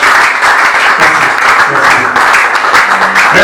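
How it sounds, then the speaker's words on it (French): An audience at a slam poetry evening breaks into loud, sustained applause, a dense wash of clapping that holds steady throughout. "Est-ce qu'on peut encore applaudir,"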